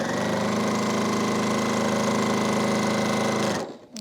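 Sewing machine stitching quilt pieces, a fast steady mechanical whir running continuously up close, then stopping abruptly near the end.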